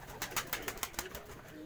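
Domestic pigeons cooing in their loft produce a steady run of soft, rhythmic coos close by, the repeated calls pulsing every fraction of a second over faint background noise.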